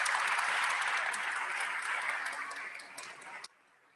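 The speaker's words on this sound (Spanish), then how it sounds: "Un aplauso para los 4, por favor." An audience at a hospital anniversary symposium applauds four doctors, a dense burst of clapping that gradually thins and then cuts off abruptly near the end, leaving quiet.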